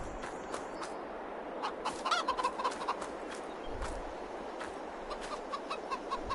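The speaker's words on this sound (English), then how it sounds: "Have one rooster and 4 chickens in there." A small backyard flock of one rooster and four chickens clucking on a farm: soft, scattered clucks and short calls over a hissy outdoor background, faint and somewhat distant, no talking.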